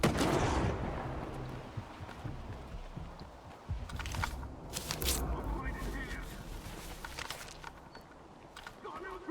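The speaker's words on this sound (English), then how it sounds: "I don't know who's shooting at him. He's got a sniper rifle or what?" Distant and mid-range rifle fire in the video game Stalker 2, including sniper shots, as scattered booms and cracks over a murky background, with someone talking through it.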